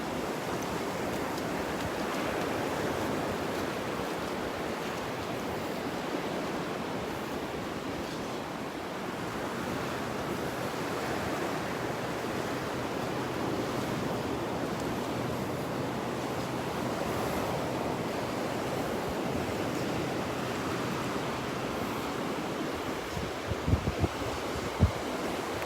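Ocean surf washes continuously onto the beach at Delnor-Wiggins on a morning walk, a broad, even roar mixed with some wind noise on the microphone and a few faint knocks near the end.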